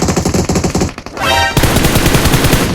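Loud, rapid bursts of automatic gunfire in PUBG Mobile, a brief pause, then another sustained rattling volley, close and harsh.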